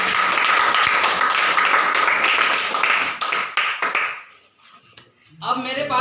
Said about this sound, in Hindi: तो मैं चाहूंगा हमारे तुलसी के लिए जोरदार ताली।